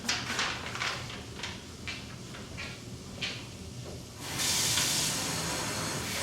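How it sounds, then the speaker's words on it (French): Water poured into a hot pan of garlic and sweet potato gives a sudden loud, steady steamy hiss that bursts in partway through, preceded by quieter kitchen clatter and faint bumps. "Là, on va ajouter l'eau. Il y a une demi-tasse d'eau pour faire cuire la patate."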